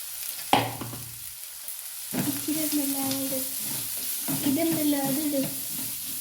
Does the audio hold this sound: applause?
no